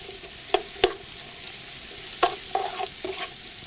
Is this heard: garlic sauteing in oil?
yes